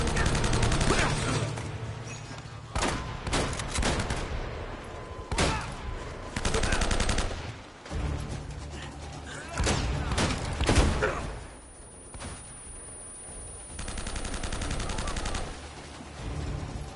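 Heavy gunfire rages in Uncharted: Drake's Fortune, with loud, dense bursts of automatic fire and shots broken by brief gaps. The volleys repeat through the whole stretch and stay close.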